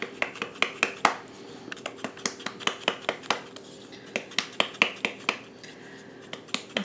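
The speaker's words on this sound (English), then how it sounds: "we're just going to mix all this up" Fajita seasoning spices being mixed in a small jar, giving a rapid series of close, sharp clicks and taps at an irregular rhythm, fairly quiet with no talking.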